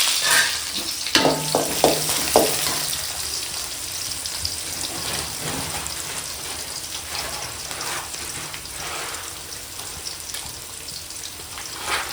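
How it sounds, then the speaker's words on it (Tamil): Dried red chillies and onion sizzle steadily in hot oil in a pan, a dense, continuous crackling fry with a few brief utensil clinks near the start, heard close with no voices. "இப்போ வரமிளகாவும் வெங்காயம் சேர்த்துக்கிறேன்"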